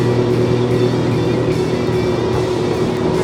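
World Cat 325DC catamaran's twin outboard motors roaring steadily as the boat runs at speed, a loud, continuous engine drone with wind and water rush, no talking.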